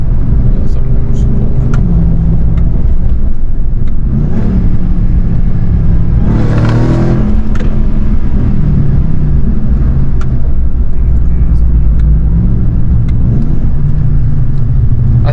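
A Dodge Demon 170 rumbles close by as it downshifts, with a sharp rev rising and falling midway. Voices talk over the deep, steady engine drone.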